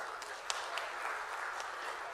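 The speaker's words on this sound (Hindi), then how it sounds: "हम चाहेंगे आप सबकी जोरदार तालियां।" An audience claps at a live event in Bhopal with Chief Minister Shivraj, a short, even burst of many hands with no pauses, moderately loud and with no voices over it.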